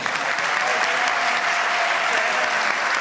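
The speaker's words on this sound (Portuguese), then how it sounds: "Pode aplaudir, porque ele merece" Studio audience applauding a guest interviewer on a Brazilian late-night talk show, steady dense clapping throughout, loud and continuous with no gaps.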